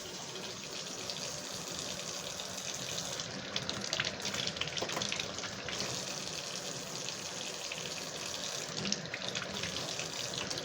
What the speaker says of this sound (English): And there's some hot water under the faucet.